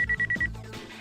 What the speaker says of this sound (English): Beeping. Yes, I'm guessing that's like a pager or something.